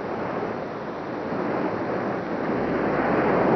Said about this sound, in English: The waves come in and the waves go out.